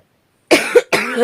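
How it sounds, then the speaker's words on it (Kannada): A pair of rough, nearby coughs from a person with a sore throat, one right after the other, following a moment of quiet. "ಕೆಮ್ಮು ಬರ್ತಾಯಿತ್ತು"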